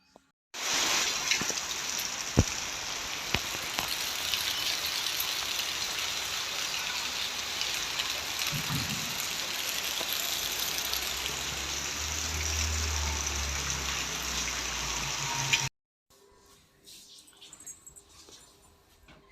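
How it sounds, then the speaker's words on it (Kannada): Evening rain pours down outdoors in a steady, loud hiss for about fifteen seconds, then stops abruptly, leaving quieter background noise. "ಸಾಯಂಕಾಲದ್ದು ಮಳೆ"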